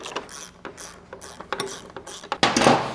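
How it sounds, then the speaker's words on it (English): A ratchet clicks in several quick bursts, close up, while loosening the nut during a brake rotor install, ending in a louder grinding turn. "Next thing I'm gonna do is loosen the nut."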